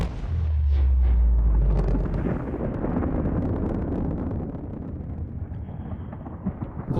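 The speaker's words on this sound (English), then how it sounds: "Should we watch the explosion? I guess we should watch the explosion." Reactor explosion in the video game Subnautica, a deep booming blast with a heavy low rumble that rolls on and slowly fades over several seconds, loud and without speech.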